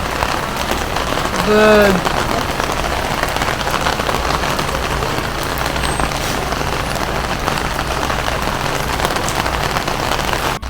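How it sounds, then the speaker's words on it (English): Steady heavy rain patters on surfaces throughout at Miyajima, Japan, with a brief voice near the start and faint traffic underneath. "Even though it's raining today"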